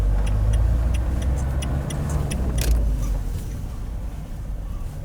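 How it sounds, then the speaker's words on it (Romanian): Car passing on a road beside a roadside parking spot near Lake Bicaz, a steady close rumble under faint ticking and clicking that slowly fades as it moves away. "Să treacă mașina."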